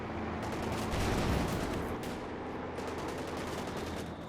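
Machine gun fire in the World War II strategy game Company of Heroes 2, with a pinned-down Panzer IV in the battle, rattling continuously and loud for the whole stretch amid dense battlefield din and other gunfire.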